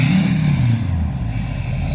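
A 2005 LLY Duramax diesel engine revs loudly up close, a low heavy rumble that rises and then settles into a steady, throaty idle-like drone over two seconds, with no talking.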